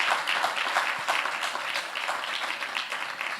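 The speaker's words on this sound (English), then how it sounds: "another round of applause for the participants" Audience applause for the semi-finalists at a fintech challenge event, dense steady clapping from a crowd sustained throughout without voices.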